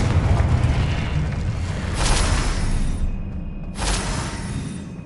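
Blasting-spell explosions in Hogwarts Legacy, heavy booming bursts with rushing whooshes layered over a dense rumbling game soundscape, two bright blasts standing out in quick succession.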